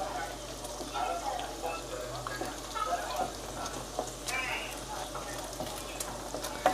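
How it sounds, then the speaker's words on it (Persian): Sausages sizzle and fry in a pan for a late-night omelette, a steady crackle with occasional stirring clatter close by, continuous throughout with faint background noise. "سعی میکنه اول سوسیس سرخ کنیم"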